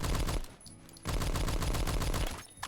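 A 50-damage SMG firing in Roblox Phantom Forces, two rapid bursts of loud close automatic fire with a short pause between them.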